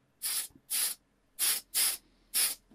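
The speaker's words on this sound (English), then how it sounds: "paint them a little bit of primer and a little bit of metallic gold Tamiya spray" Metallic gold Tamiya spray paint goes onto a small Matchbox Volkswagen Beetle model in five short, close hissing bursts with brief silent gaps between them.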